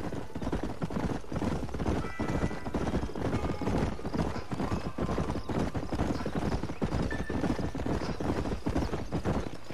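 Several horses in Red Dead Redemption clip-clop at a steady trotting rhythm, loud and close, with a whinny breaking through and occasional talk mixed in.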